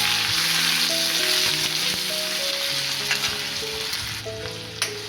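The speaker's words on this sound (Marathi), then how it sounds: "जिरे छान तळतळले की आपल्याला कांदा टाकायचा त्याच्यामध्ये" Finely chopped onion frying in oil with cumin seeds for a capsicum sabzi, a strong continuous sizzle heard close up, with steady stirring and a few faint clicks of a spoon against the pan.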